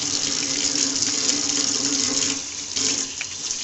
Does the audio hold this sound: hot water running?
yes